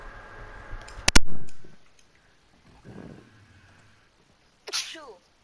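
A PlayStation 4 console lets out a short, sharp sneeze-like burst, followed later by a brief chirping electronic sound, with quiet pauses between.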